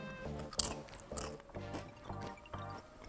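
Someone chews dried carrot crisps, producing a steady run of rhythmic, close crunches, about one every half second.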